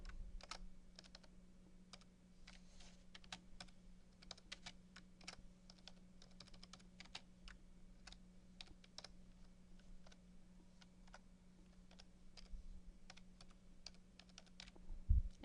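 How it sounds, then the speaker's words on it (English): Keys tapped on a computer keyboard to rename a file, a steady run of light, quick clicks at close range over a low background hum, with no voices. "all you have to do is start typing in order to change your name."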